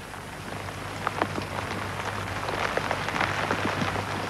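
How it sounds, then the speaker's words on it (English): Heavy rain pours steadily on a picket line during a 1984 miners' strike, a dense constant hiss with scattered drop impacts and no talk. "Police and pickets stood in silence in the downpour."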